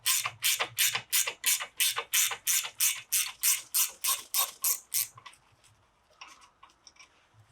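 Ratchet loosening the brake caliper bolts on a Corsa D, a close, loud run of about fifteen even clicking strokes, then a few faint scattered clicks.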